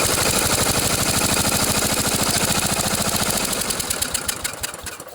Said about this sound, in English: I'm going to turn the engine over so you can watch for yourself to see if you can see spark.